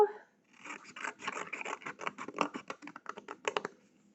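Scissors cutting through paper for a pop-up explosion box, a quick run of crisp snips and rasping cuts close by, steady and rhythmic, with no voice over it.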